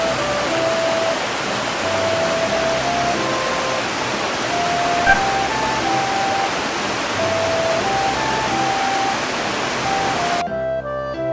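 A river near a cottage in Doshi village, Yamanashi, flows with a steady, full rushing wash that holds even throughout, with soft background music over it until a brief change at the end.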